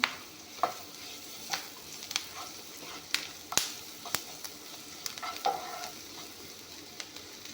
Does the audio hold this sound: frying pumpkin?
yes